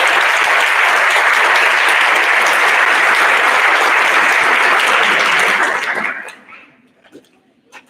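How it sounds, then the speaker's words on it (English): A room at a school board public session bursts into sustained, dense applause that holds steady for about six seconds, then fades out quickly into near silence. "Please join me in a round of applause"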